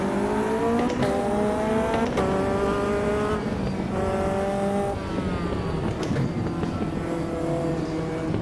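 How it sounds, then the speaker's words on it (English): A Caterham 620R racing around Brands Hatch in the game Automobilista 2 roars loud and close, revving up through repeated upshifts with sharp pitch drops between gears and occasional tire squeal. "here at Brands Hatch, you are on board the Caterham 620R"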